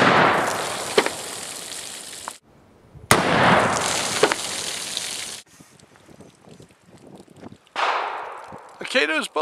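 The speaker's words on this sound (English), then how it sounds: "let's run the penetration test on Kaido's 240 grain bullet and 30 grains of powder" A muzzleloader fires a 240-grain Kaido conical bullet over 30 grains of powder into a row of water jugs, giving a sharp loud blast with a short reverberating tail, then a second similar burst and clattering sounds.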